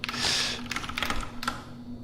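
Rapid typing on a new computer keyboard: a quick burst of soft, close key clicks in an irregular rhythm over a faint steady hum, with no voices.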